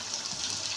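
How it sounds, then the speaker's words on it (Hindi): Lemon juice is poured over stuffed eggplants in a cooking pot, making a brief, steady, soft liquid splash with no talking. "मैं डाल रही हूँ जनाब 1 लीमू का जूस"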